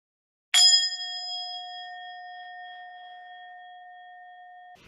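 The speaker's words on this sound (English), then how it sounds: "This is actually Tibetan Buddhist meditation bell." A single Tibetan Buddhist meditation bell is struck once, ringing out loud and clear with a bright attack and a long, pure sustained tone that slowly fades over several seconds, alone in an otherwise quiet room.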